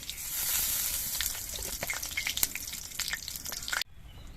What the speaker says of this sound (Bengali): তেলের মধ্যে দিয়ে দিচ্ছি অল্প একটু গোটা জিরে